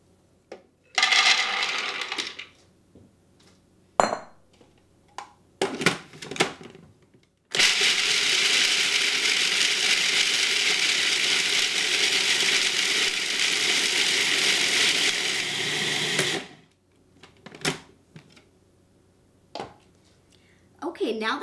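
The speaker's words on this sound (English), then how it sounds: "I'll put raw, unsoaked almonds into the processor and then process it to a flour" Raw, unsoaked almonds ground to flour in a food processor: a loud, steady motor whir with rattling nuts runs for about nine seconds, bracketed by short bursts and clatter before and after.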